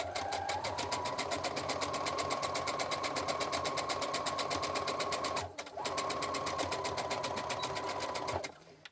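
A domestic sewing machine stitches a fabric garland, its needle running in a fast, steady mechanical rattle at close range, pausing briefly once before resuming, then stopping near the end.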